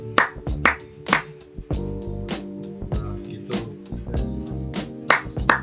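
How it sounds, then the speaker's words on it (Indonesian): Repeated sharp hand claps in irregular bursts, loud and close, picked up by a KY-037 microphone module on an Arduino Uno, over a steady humming tone in the background. "Di sini kita akan coba memberikan input dengan cara tepuk tangan."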